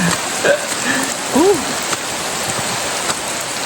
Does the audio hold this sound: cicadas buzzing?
no